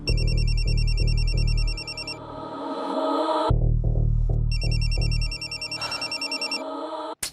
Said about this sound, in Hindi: इस दरमियान कोई कॉल आया था तनवीर को?